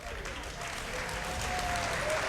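A crowd at a StarCraft esports match, WCS Spring 2019 in Rotterdam, applauds and cheers for the player Clem, a dense, sustained wash of clapping that grows slightly louder throughout.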